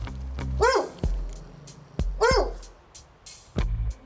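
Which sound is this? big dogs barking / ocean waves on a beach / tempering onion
big dogs barking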